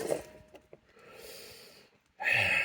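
A dog named Moose snorts and breathes close by in a quiet room, soft huffs and sniffs followed by a louder burst of breathy snorting at the end.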